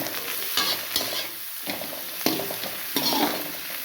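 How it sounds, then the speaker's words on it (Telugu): Cauliflower rice with coriander and green chillies is stir-fried Chinese style on a high flame, a loud, close sizzle with a few rhythmic scraping stirs of a spatula in the pan. "చైనీస్ స్టైల్లో ఎక్కువసేపు హై ఫ్లేమ్లో ఫ్రై చేసుకుందామండి."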